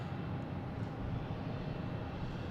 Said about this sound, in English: We got Lufthansa heading over to 22 left.